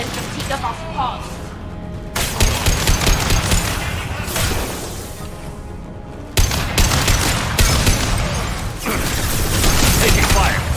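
Gunfire in the video game Mass Effect Legendary, with dense bursts of shots and booms that come in waves, loud and sustained, alongside game voices.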